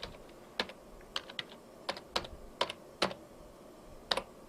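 Someone types an address on a computer keyboard in quiet, irregular bursts of close, crisp key clicks with short pauses between them.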